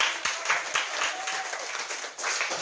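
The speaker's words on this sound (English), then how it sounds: "let's give also one round of applause" An audience at a school mathematics debate applauds the judges and both teams, a dense, continuous wash of many hands clapping at moderate distance, steady throughout with no voices over it.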